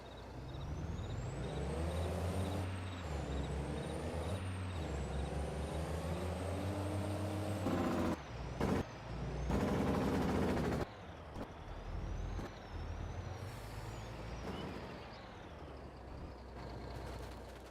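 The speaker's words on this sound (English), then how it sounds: "Truck engine warmed up." A truck engine running in Farming Simulator 22, a steady idling drone with shifting tones, punctuated by loud hissing air-brake-like bursts and a few clunks, no voices.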